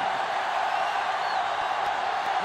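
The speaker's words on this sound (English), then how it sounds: "The sellout crowd is really making a difference now as these guys can't even call the play." Simulated football stadium crowd from a college football video game, a steady, dense roar of cheering and murmur filling the whole moment with no breaks.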